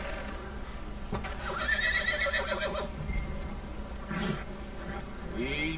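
A horse in the video game Red Dead Redemption 2 whinnies in a high, shaky neigh, followed by softer snorts and a second shorter call, amid a light buzzing ambience.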